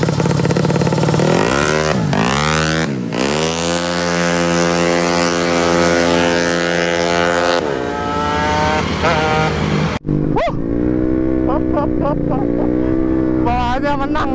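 Two motorcycles race, a carbureted 142cc Honda Beat scooter against a 150cc Kawasaki Ninja RR two-stroke, with loud high-pitched engines revving and rising through gears in repeated sweeps, close and dominant, as people shout and talk.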